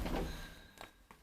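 A Kone traction elevator door in an old modernized lift at a Vaasa apartment staircase rolls shut with a sliding rumble, then two light thuds follow as it settles, close and fairly quiet.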